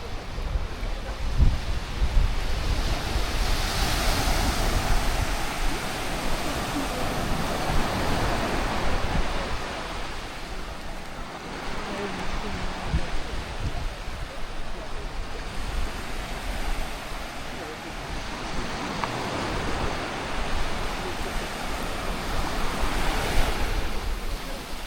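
Gentle surf washes onto a white sand beach at Khao Lak, Thailand: a continuous close, steady roar of waves with some wind noise across the mic and no talk.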